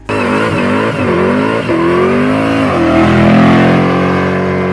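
A 1970 Dodge Challenger R/T with a 426 Hemi V8 revs hard and loud up close, its deep engine note climbing in repeated surges before holding a sustained high roar.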